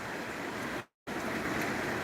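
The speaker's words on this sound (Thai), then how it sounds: "ฝนตกหนักพอสมควรนะครับผม" Heavy night rain with wind in Mueang Sakon Nakhon, Thailand, pours in a dense, constant hiss, broken by a brief moment of silence midway.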